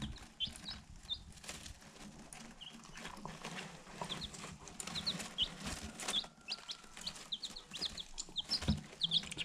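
Young chickens peep and cluck softly in short, scattered calls close by, mixed with light wing flapping and shuffling as they huddle together for warmth.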